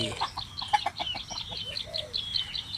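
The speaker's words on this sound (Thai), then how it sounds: "ฮ้ยมีน้องไก่ด้วย" Chickens cluck in a garden while someone walks and gathers vegetables outdoors. Short, close, repeated calls come in an uneven stream, with chirps and rustling around them.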